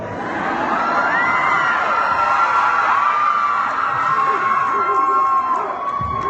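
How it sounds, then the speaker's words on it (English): A convention panel audience yelling and cheering loudly, a dense crowd roar with whoops and shouts sustained throughout, close and continuous. "I gotta hear y'all just yell stuff."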